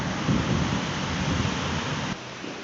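Heavy rain falls outside as a steady, dense hiss, loud and unbroken for about two seconds before dropping suddenly to a lighter level near the end; no voices.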